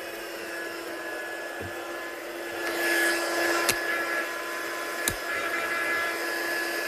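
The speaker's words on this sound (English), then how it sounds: "So we'll just heat set this." A heat tool melts embossing powder on cardstock during papercrafting, giving a steady close airy whoosh that swells a little partway through, with a couple of sharp clicks and no talking.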